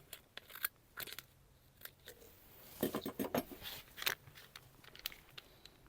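Scissors snip repeatedly through a thin powder packet, a series of crisp close cuts with a brief denser run of snips near the middle.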